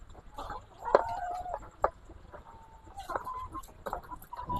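Chickens cluck and squawk nearby on an egg farm in rainy weather, with several sharp loud calls and some longer drawn-out cackles over a soft background rumble.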